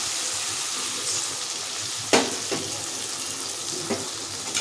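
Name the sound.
water added to spice paste and fish in a frying pan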